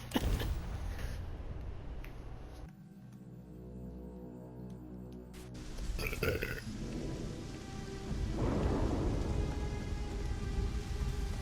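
Steady rain with low rumbling thunder in the Starfield video game, a soft continuous wash of rainfall that shifts and swells partway through, with no voices.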